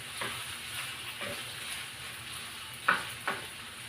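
Pork and tomato paste sizzle steadily in oil while being stirred, with a soft continuous frying hiss and a few louder scraping clinks from the utensil toward the end.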